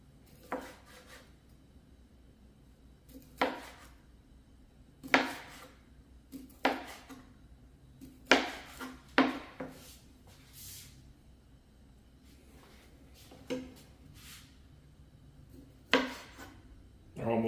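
A knife chops sausage on a board for a chicken and sausage gumbo. Irregular, moderately loud thuds and clicks sound close by and pause now and then, over a low kitchen background.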